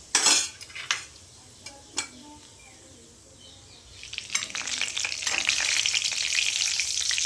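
Dried chillies, mustard seeds and cumin are sautéed in a pan for restaurant-style Punjabi chole. A few sharp utensil clinks come first, then a bright, steady sizzle swells and keeps going close by.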